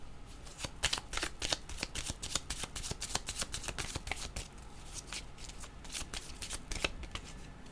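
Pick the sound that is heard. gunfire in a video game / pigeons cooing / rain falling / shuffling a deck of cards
shuffling a deck of cards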